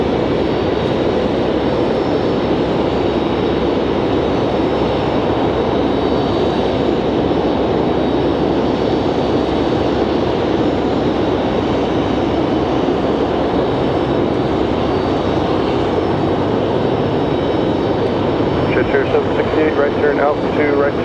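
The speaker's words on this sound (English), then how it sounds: "UPS off to Louisville. Enjoy the A300 departure." A UPS Airbus A300 jet departing with a loud, sustained roar that holds steady throughout, with no talk over it.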